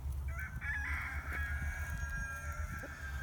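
European breed backyard chickens, including Lakenvelders, cluck and chatter while a rooster crows partway through, the calls fairly close over a steady low rumble of background noise.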